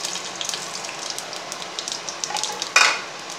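Mustard seeds and urad dal sizzle in hot oil, a close, crackling fry with small pops throughout and a sudden louder hiss near the end, with no talking.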